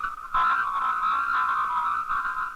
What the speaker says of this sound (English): A squeezed message sounds like this.